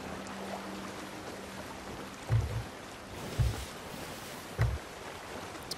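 Sailing ship from Sea of Thieves pushing slowly against the wind through ocean waves, with a steady wash of water and wind and three soft low thumps of hull slapping swells, quiet and with no talk.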